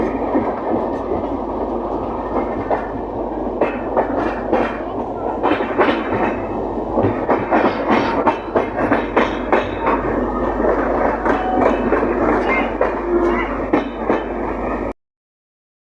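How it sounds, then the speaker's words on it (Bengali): Dhauli Express passenger train rolling into Kharagpur Junction, a steady loud rumble with repeated clickety-clack of wheels over rail joints throughout, no talk, ending abruptly. "ট্রেন ঢুকছে খড়গপুর জাংশন"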